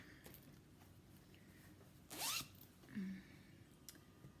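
A zipper on a new zippered project bag, lined and made of fabric, is pulled in one loud quick run, then a shorter softer zip follows about a second later, close by in a quiet room.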